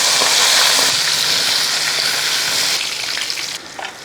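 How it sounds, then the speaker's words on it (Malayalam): Chicken fries in sunflower oil in a heavy uruli pot, a loud close broadband sizzle that holds steady and then eases in stages toward the end, with no voices. "സൺഫ്ലവർ ഓയിൽ അങ്ങോട്ട് ഇട്ട് കൊടുക്കുക. ചിക്കൻ അങ്ങോട്ട് പരത്തി"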